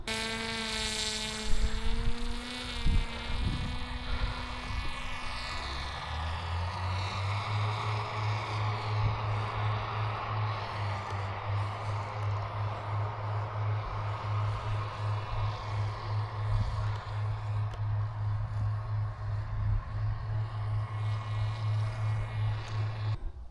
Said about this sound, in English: So here's a look at the smaller variant with a pusher motor